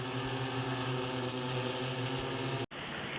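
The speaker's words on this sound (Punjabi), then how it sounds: "ਲੋ ਜੀ ਆ ਗਿਆ ਡਰੋਨ" An agricultural spray drone flies low over a sugarcane field, a steady mechanical drone with strong humming rotor tones running continuously nearby, briefly cutting out near the end.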